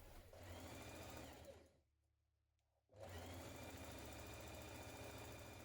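A sewing machine stitching the side seam of a skirt runs with a loud steady whir, stops briefly, then carries on at the same pace.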